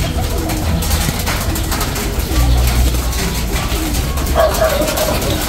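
Racing pigeons, escaped breeders, cooing close by in a steady, busy chorus of low, throaty coos over a dense background of flock noise.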